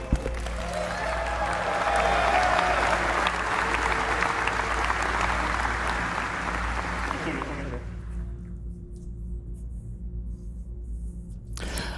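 Audience applause at a Star Citizen convention keynote, a broad, steady crowd clapping that swells and then cuts off, followed by near-silence with a faint hum.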